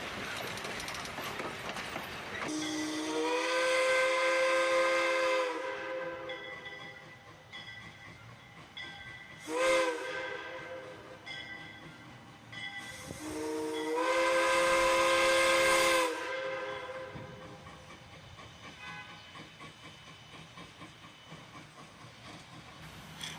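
A steam locomotive returning into Lebanon station sounds its whistle in long sustained blasts, one short toot between them, over a continuous hissing, rumbling train passing nearby.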